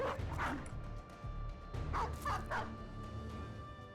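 War dogs in the video game Battle Brothers, barking and yipping in scattered bursts, several short barks with whimpers mixed in, moderately faint over a steady game background.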